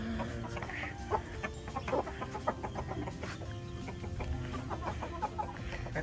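Chickens clucking close by, repeated short clucks scattered over a busy farmyard background with no clear talk.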